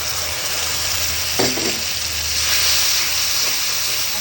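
Spice paste of cumin, coriander, chili and ginger frying in hot oil, a steady close sizzle with a brief stirring scrape partway through, with no talking.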